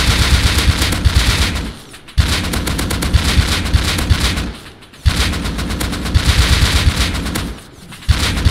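AK rifle in the video game Rust sprayed in long, loud, continuous automatic bursts, three sustained strings of rapid fire separated by brief pauses.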